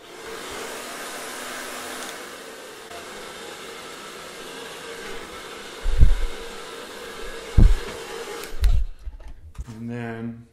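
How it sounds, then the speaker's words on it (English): A hair dryer blows steadily and loudly, held close, while a beard is straightened by blowing it downward. The airflow drops out near the end, leaving a few thumps and rustles. "now what I want to do is blow it down to give a kind of a straight down look"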